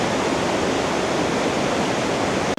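A small waterfall in Banff gives a loud, steady, broadband rush of tumbling water close by, continuous and without a break until it cuts off abruptly at the end.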